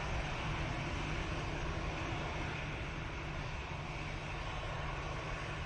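An Aer Lingus airliner on short final into Manchester Airport makes a steady, loud broadband engine roar with a low rumble, continuous and unbroken for the whole stretch, with no voices.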